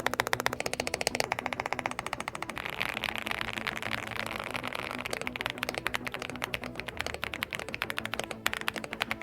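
Steady, fast typing on a Leobog AMG65 65% mechanical keyboard with soft, deep, rounded keystrokes, close and continuous, with no talking.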